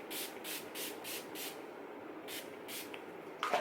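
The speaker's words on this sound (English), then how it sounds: "take any setting spray. I'm using the Urban Decay All Nighter right now. So you're just gonna take that and spritz that" Urban Decay All Nighter setting spray is spritzed in a quick series of soft, hissy pumps, about eight short bursts in a row, faint and close, with a brief rustle at the end.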